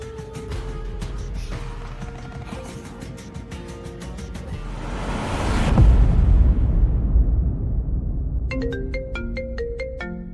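Mobile phone ringtone of an incoming call, a bright repeating melodic jingle that sounds at the start and returns near the end, with a dense rumbling, roaring swell of background music in between.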